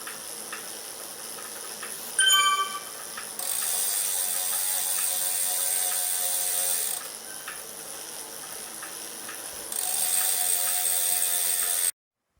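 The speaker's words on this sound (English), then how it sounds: "So I'm just pulling the first set of screws out of the side of the Saris" Hex bolts being removed from the side of a Saris H3 bike trainer, a ratchet or driver clicking briefly, then long stretches of steady mechanical whirring and hiss, close and fairly loud.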